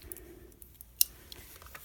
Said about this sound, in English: all you're going to do is take a pair of scissors